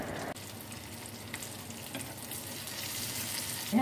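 Chicken shami kababs fry in a pan with a continuous, close crackling sizzle and a few sharper pops, and no voices.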